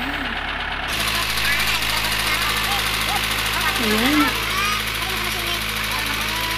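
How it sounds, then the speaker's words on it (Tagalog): A borewell drill truck's engine starts after about a second and settles into a steady, loud, droning run, with people talking over it. "Nag-start na gumana yung makina."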